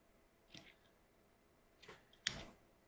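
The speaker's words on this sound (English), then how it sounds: "So what I like to do is just trim these edges a little bit" Scissors trimming small triangles from the fabric edges of a sewn bra, giving three quick, close snips separated by silence, the last one sharpest and loudest.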